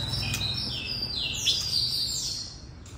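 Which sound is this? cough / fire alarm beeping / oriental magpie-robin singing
oriental magpie-robin singing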